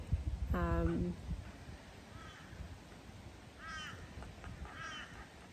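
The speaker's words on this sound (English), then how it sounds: "There's a couple of beautiful sulphur-crested cockatoos that must be feeding on grubs or insects in a dead tree." Harsh, raspy screeching calls of sulphur-crested cockatoos feeding in a dead tree: one loud, close burst, then several fainter screeches farther away.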